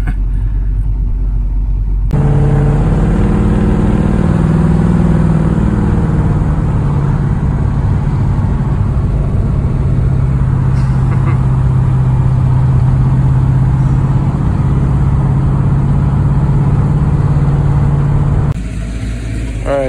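A Mercedes E420 V8 sedan with a manual transmission swap drives along, its engine droning steadily under continuous road and cabin rumble, with a rising tone as it accelerates and no talking.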